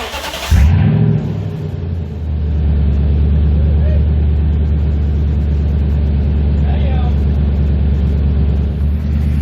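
A Toyota Tundra 4.6L with a muffler-delete exhaust cranks and fires up with a sharp bark, then settles into a loud, deep, steady idle rumble close by.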